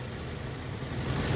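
A 2016 Toyota Kijang Innova with a 2.0-litre 2000 cc four-cylinder engine idling with the hood open, a steady close-up low rumble and hum that holds even and continuous.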